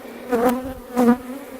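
Honeybees buzz around an open hive during a frame inspection, a close steady hum that swells twice in brief louder bursts as bees fly near, with no talk.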